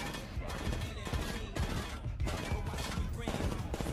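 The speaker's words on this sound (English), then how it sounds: "Will Smith shooting shit" Rapid gunfire from a Suicide Squad film scene, dense repeated bursts of shots with a loud, continuous rattling texture, with music mixed in and little talk.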